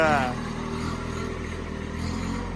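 Engine of a Kubota B2140SN-B tractor, a three-cylinder machine, idling steadily at close range with a low continuous mid-frequency drone, with a brief voice at the start.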